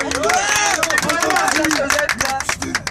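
Applause with cheering and crowd chatter for Mümin amca, an elder honoured on a student school trip to the Netherlands, as dense clapping runs steadily throughout among voices.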